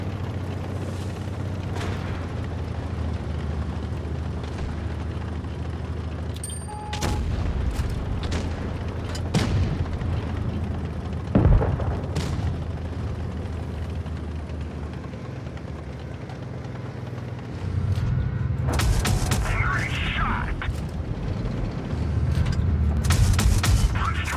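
Gunfire from the AO-9V Sterope in a video game, heard as loud booming shots spaced irregularly over a steady rumble of engine and battle noise, with heavier bursts toward the end.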